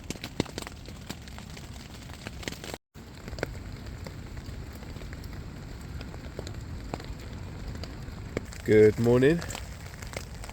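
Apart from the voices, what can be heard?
rain falling on tarp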